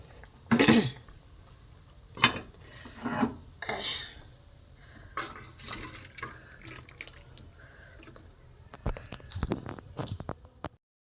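Mustard-paste fish curry of small hilsa with eggplant and potato poured from a pan into a dish, wet splashy pours broken up by metal utensil clinks and scrapes, close and intermittent.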